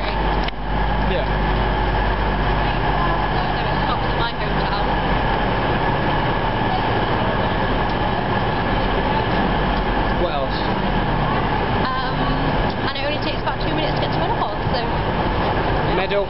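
Steady, loud rumble of a train to Meadowhall, Sheffield, carrying on throughout, with people talking over the continuous low mechanical noise.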